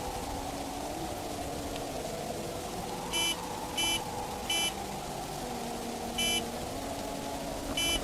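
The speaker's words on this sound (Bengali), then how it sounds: "মনে হলো গাড়ির হর্ন।" Five short, faint car horn beeps at uneven intervals, sounding somewhat distant over a steady low rumble of background noise, during a night storm.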